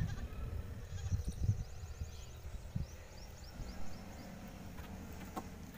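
Young goat kids bleat faintly at a distance in an outdoor setting, a few thin cries over low rustling and background murmur.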